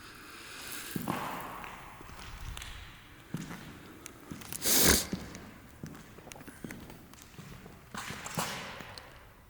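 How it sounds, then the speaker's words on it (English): Crunching footsteps move through debris inside an abandoned Albert Kahn–designed YMCA in Detroit, with irregular steps scattered across several seconds, one louder scrape near the middle, in a quiet, echoey interior. "You can hear me walking, crunch, crunch, crunch."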